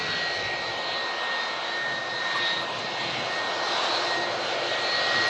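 Airliner engines roar steadily at Manchester Airport on an aging 36-year-old airframe, a loud continuous broadband rumble with a faint high whine, unbroken throughout with no talk.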